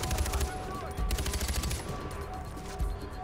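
Gunfire from a weapon in Far Cry 4, rapid bursts of close, loud shots in a quick rattling rhythm, broken by short pauses and a final single crack.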